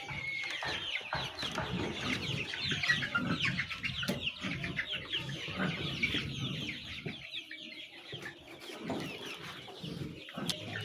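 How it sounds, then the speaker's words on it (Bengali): Month-old broiler chickens on a rice-husk floor cluck and chirp in a continuous busy chorus, close and fairly loud, with many overlapping calls throughout. "মাশাআল্লাহ আমাদের মুরগিগুলোকে দেখুন"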